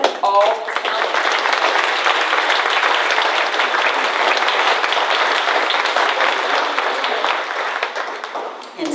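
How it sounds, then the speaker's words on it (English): Loud, sustained clapping from an audience at the Grannie Annie book signing celebration closing remarks, a thick unbroken wash of hands lasting nearly nine seconds after a brief spoken moment at the start. "We just have to clap one more time for all the talent."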